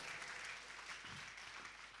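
A church congregation claps together during a Sunday worship service, a dense, steady wash of applause that fills the room with no break.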